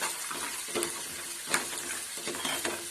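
Peanuts frying with green chillies in a pan of oil for Maharashtrian kande pohe, a steady close sizzle broken by a few sharp stirring scrapes and clinks, with no talk over it.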